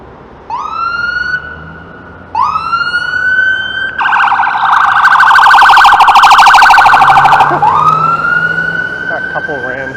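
A wailing siren rises and sweeps repeatedly, switching midway to a rapid yelp, loud and close as an ambulance passes amid traffic noise on a Toronto street.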